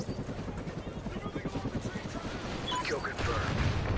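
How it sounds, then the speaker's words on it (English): MI-24 helicopter in a video game, its rotor thudding in a steady rapid chop under heavy gunfire, with a louder, denser burst of noise near the end. "MI-24 standing by. Friendly chopper inbound."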